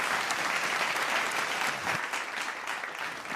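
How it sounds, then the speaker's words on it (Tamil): Audience applause for talent show finalists fills the room, a dense, steady clatter of many hands clapping at fairly close range with no pause throughout. "கை தட்டிடுங்க எல்லாரும்."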